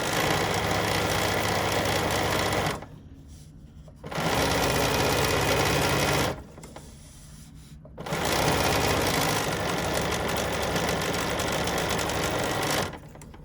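A Bernina sewing machine topstitches along a bag handle, running in three long steady whirring bursts with short quiet pauses between them, loud and close with no talking.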